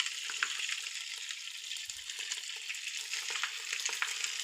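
Curry leaves frying in hot coconut oil in a pan, giving a bright, continuous crackling sizzle with sharp pops throughout, close and fairly loud, with no voices.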